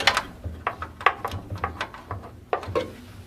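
Screws being backed out of a wood pullout pantry's slide with a ratcheting tool, giving short clicking bursts of turning and ratchet pawl at close range with brief pauses.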